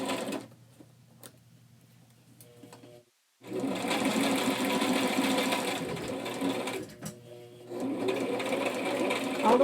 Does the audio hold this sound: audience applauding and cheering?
no